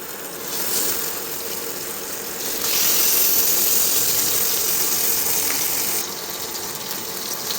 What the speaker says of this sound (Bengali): এবার মাছটা আমরা এক এক করে কড়াইতে ছেড়ে দেবো।